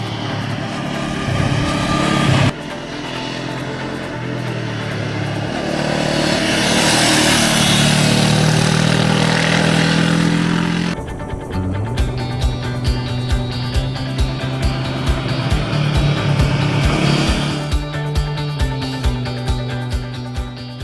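Honda CB500F 2016 motorcycle engine running loud and close, with a sustained roar that builds through revs, then a series of rhythmic pulses like gear changes or throttle blips while riding.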